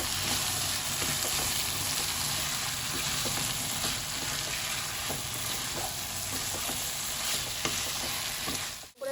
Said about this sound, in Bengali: এবার আমি এর মধ্যে এক চামচ চিনি দিয়ে দেবো। দিয়ে একটু কিছুক্ষণ কষিয়ে নেবো।